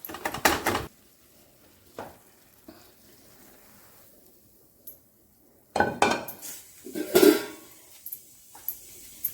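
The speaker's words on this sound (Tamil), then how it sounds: "இப்போ இதை எடுத்து பிளேட்டில் கொட்டிக்கலாம்" Coconut burfi mixture, just off the stove, is scraped and poured from a metal pan onto a plate, giving sharp clanks and scraping bursts at the start and again later, separated by quiet stretches.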